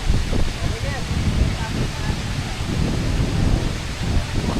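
Strong wind roars steadily across the microphone beside water, a dense constant rushing with buffeting gusts and faint voices underneath.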